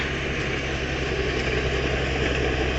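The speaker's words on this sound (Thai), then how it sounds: "รถอัดฟางคันนี้ใช้เครื่องยนต์ขนาดเล็กครับ" The small engine of a tracked hay baler runs steadily nearby, a constant chugging drone with a low vibrating hum and no change in speed.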